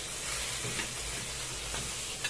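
Pieces of fish being lifted out of hot frying oil sizzle steadily and loudly throughout, with faint stirring clatter and no talking.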